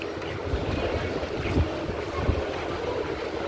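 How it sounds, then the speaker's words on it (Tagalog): Strong wind buffeting outdoors, a continuous roaring rumble with gusty low thumps against the microphone. "Oh, lakas ng hangin."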